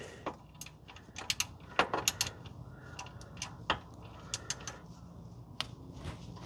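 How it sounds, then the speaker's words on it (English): A small 6-inch ratchet working on an oil drain plug during an engine oil change, giving quiet, irregular clicks and ticks at close range with faint background hum. "here with our little teeny 6-inch ratchet. You don't need much leverage at all."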